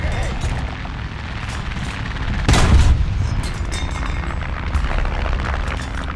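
A Tetrarch I light tank's cannon fires in War Thunder ground battles, one sharp, loud boom near the middle standing out over a constant low engine rumble.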